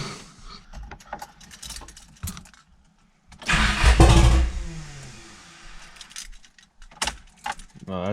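Keys jangle, then an 80s sports car engine cranks, catches and roars up loudly before settling to a fast idle, the car running for the first time in two years, with a voice briefly heard.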